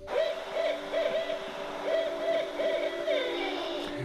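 Owl hoots, apparently a studio sound effect, repeat in short rhythmic bursts of two to four notes over a steady low hum, moderately loud and close, with no voices.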